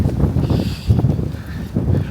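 Cold wind gusts buffet the microphone in rough, low rumbling bursts, loud and close, rising and falling over about two seconds with no talking.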